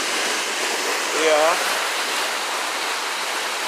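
River water at Montpelier rushes in a steady, broad wash that fills the whole clip. A voice briefly speaks over the flow.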